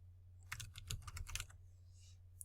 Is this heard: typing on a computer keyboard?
yes